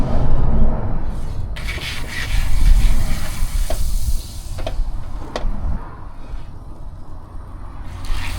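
Butter sizzles in a frying pan inside a 78-year-old converted school bus: a steady, loud crackling hiss heard up close, with occasional scrapes and stirring.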